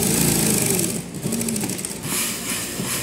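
Sewing machine stitching a trouser seam, a steady close mechanical whir with fast rapid needle rhythm running continuously, briefly easing in pace midway, with no talk over it.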